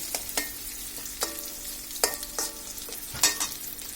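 Onion and garlic frying in oil for a Bengali dal, with a steady sizzle and a spoon scraping the pan in irregular strokes, close and moderately loud, no voices.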